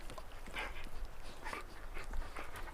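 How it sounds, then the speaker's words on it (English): Dogs play fighting, with scattered yips, whimpers and snuffling bursts at close range over a quiet background. "dogs play fight, and these guys know each other"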